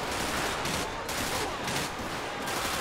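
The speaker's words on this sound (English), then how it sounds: "Somebody just shot me, bro." Sustained gunfire in GTA 5 during a police gang-unit shootout, a dense, continuous fusillade of overlapping shots with bursts rising and falling in loudness, filling the scene without a break.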